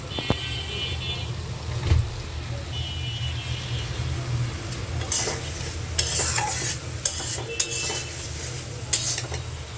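Spice paste and potatoes sautéing in a pan, with a low continuous sizzle and frequent scraping, clattering stirs from a utensil against the pan, close by, with a faint voice briefly in the background.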